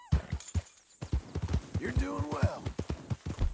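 Horse hooves clip-clop in Red Dead Redemption 2, steady beats under someone talking, with a brief whinny-like rising tone partway through.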